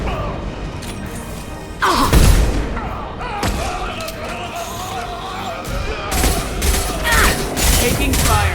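Gunfire and impacts in the Mass Effect 2 video game: a heavy crash near two seconds, then mechanical rumble and renewed bursts of fire toward the end, with brief voices mixed in.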